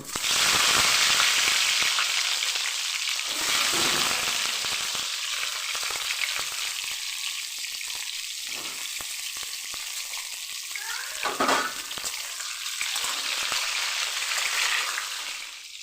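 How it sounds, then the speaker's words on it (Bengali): Pointed gourd (potol) frying in mustard oil in a wok over low heat gives a loud, continuous crackling sizzle that holds steady throughout, with occasional stirring and no voices. "পটলগুলোকে হালকা আঁচে ভেজে নেব।"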